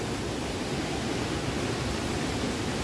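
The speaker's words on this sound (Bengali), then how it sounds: "কি জোরে জল পড়ছে, প্রচুর পরিমাণে জল পড়ছে" Mountain waterfall in North Sikkim, a strong flow of falling water producing a dense, steady roar of broadband noise, close and unbroken, with no voices.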